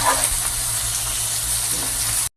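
Cracked eggs and mashed tomatoes stirred in a pan make a steady, close sizzling hiss that runs alone without pause until a brief dropout near the end.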